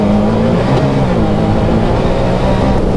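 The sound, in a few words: Can-Am Maverick R off-road vehicle driving fast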